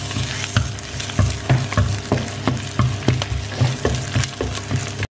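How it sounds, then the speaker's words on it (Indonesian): Shallots sautéing in hot cooking oil for sambal tauco, a steady close sizzle and crackle with periodic stirring scrapes of a utensil in the pan, with no talking. "Minyaknya sudah panas, kita masukkan bawang merahnya. Kita tumis sampai berubah warna."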